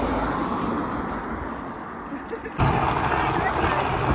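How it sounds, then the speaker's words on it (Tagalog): A helicopter lands nearby in a rural cornfield, its steady low rotor and engine roar continuous throughout and growing louder and closer partway through. "Naglanding na helicopter."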